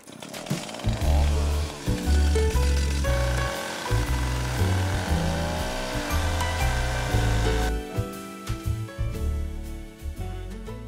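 A saw cutting off the base of a large wooden Christmas tree, a loud continuous motorized buzzing with pitch shifts as the blade loads and frees, close up and running throughout, with no talking.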